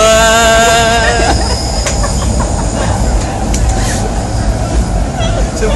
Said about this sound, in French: nous sommes dans le métro, il est 11h14